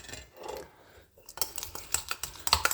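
Nescafe coffee and milk being beaten by hand with a spoon in a cup gives rapid, light metallic clinks and scrapes, quiet at first then a quick, irregular rhythm of taps.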